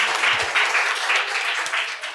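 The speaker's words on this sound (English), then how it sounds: "give her an extra round of applause" An audience at a primary school quiz applauds a student, with steady clapping filling the whole moment before it begins to taper off.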